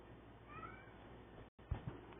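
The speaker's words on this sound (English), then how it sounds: "my cat is just yelling at me a lot." A house cat gives a single drawn-out meow, faint and somewhat distant over a low steady room hum, followed by a couple of soft thumps.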